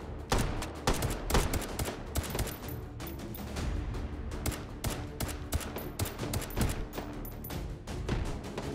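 Enemy gunfire in the VR shooter Hot Dogs, Horseshoes & Hand Grenades, a steady rattling volley of rapid shots and bursts that keeps up nonstop, fairly near and loud, with no talking.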